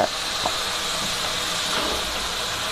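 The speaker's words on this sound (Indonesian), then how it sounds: "Dioseng terus sampai wanginya keluar." Ingredients stir-fried in a hot pan until fragrant, giving a steady, close hiss of sizzling with a couple of light knocks from stirring near the start.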